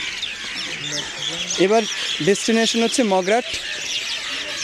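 Birds chirp and twitter busily at a village railway station, the bright calls running steadily under someone speaking close by.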